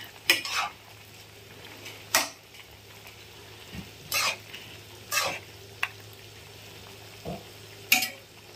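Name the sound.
stirring food in a frying pan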